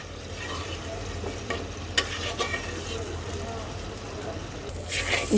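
Masala for a catla fish curry cooks down in a pan, giving a continuous close sizzle with a few scraping stirs, and a faint voice in the background.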